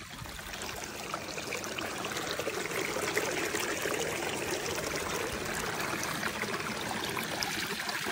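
A brook runs along a toad migration route with a waterfall nearby, a steady broadband rush and trickle of flowing water, constant and fairly close, with no voices.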